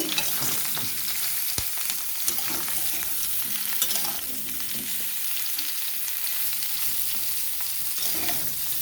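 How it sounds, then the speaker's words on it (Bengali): Cauliflower florets fry in oil in a wok, giving a steady loud sizzle with occasional scraping and clinks of a stirring spoon, no voices. "ফুলকপিগুলো আমি কড়াইয়ে দিয়ে ভালো করে ভেজে নেব"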